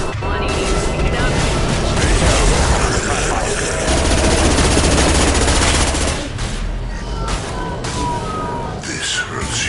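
Sustained gunfire in the shooter game Mass Effect 2: dense, continuous bursts and rapid shots, loud and close, with voices talking over the firing throughout.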